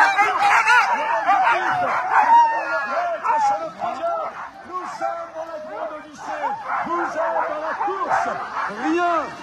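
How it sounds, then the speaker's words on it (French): A pack of racing sled dogs at a mass-start stage in Bessans yips, whimpers and barks in a dense, continuous chorus, close and loud, with a voice talking over them throughout. "Ce sont des chiens de course."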